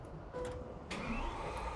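A Lamborghini Aventador S engine cranks and catches abruptly, then settles into a steady idle close by, with no voices.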